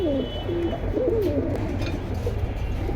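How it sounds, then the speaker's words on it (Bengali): Pigeons coo at a pigeon market, where red-tailed and black-tailed birds are on sale: a few soft, rolling, low coos sound fairly close over a steady murmur of background noise. "দর্শক হলো একটা লাল দমের কবুতর কাল দম আর কবুতর দেখেন লাল দম আসলে"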